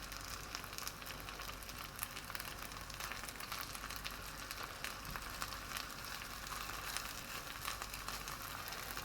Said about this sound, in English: you put a little bit of oil in a pan and you put the falafel in